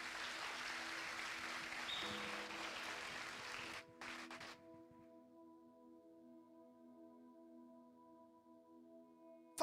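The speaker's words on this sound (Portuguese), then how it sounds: "Você pode aplaudir a Jesus por isso?" Church congregation applauding during a sermon, a dense broadband wash of clapping for about four seconds that cuts off abruptly, leaving a quiet room with faint sustained tones and low murmur.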